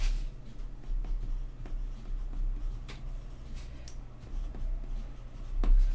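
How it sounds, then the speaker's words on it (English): A pencil scratches across paper in short, quiet strokes over a low steady hum, faint and close, with occasional soft taps and no talk. "Okay, so I just want to write this down."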